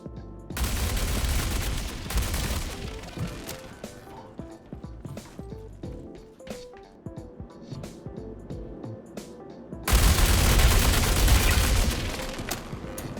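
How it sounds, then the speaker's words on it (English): Fresnel Volt LMG light machine gun firing in Star Citizen during a damage test, two long loud sustained bursts of rapid automatic fire separated by quieter clattering and scattered shots. "the Fresnel LMG deals quite a bit of damage to this medium tier armor"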